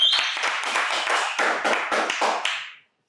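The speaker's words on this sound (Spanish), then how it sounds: "Aquí un aplauso, por favor." A short burst of audience clapping at a podcast recording, a few dozen hands striking in quick, uneven rhythm for under three seconds, fairly close, then cutting off to silence.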